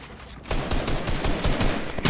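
A Tommy gun in the Fortnite video game fires a loud, rapid burst of closely packed shots after a brief quiet start, the rattle continuing almost unbroken to the end, with no talking.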